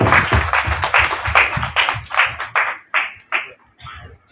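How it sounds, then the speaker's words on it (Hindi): Applause from a small crowd at a university programme, a burst of clapping that stays lively and then thins out to scattered claps as it fades. "तो मैं चाहूंगी इनके लिए भी जोरदार तालियां हों।"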